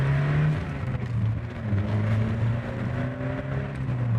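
A Lotus Esprit S3 sports car engine hums steadily from inside the cabin, pulling smoothly with slight rises in pitch as it drives.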